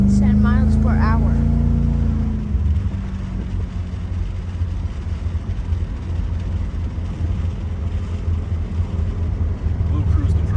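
A car with a supercharged Coyote engine swap drives along, its engine drone and road noise steady and loud throughout, with a brief lower rumble easing off early on.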